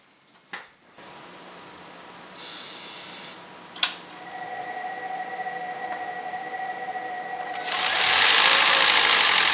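A Toyota Prius Prime hybrid is started after an oil change and cabin and engine air filter maintenance: a few clicks and a rising electric whine, then the engine catches into a louder, steady broadband running noise near the end.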